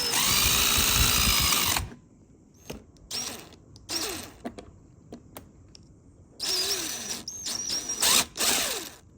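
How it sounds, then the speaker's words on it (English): A power drill with a 3/8 inch bit whines steadily at full speed drilling a hole, stops, then runs again in short bursts with a few clicks and creaks in between. "I think I'm going to put the camera down to drill that last hole."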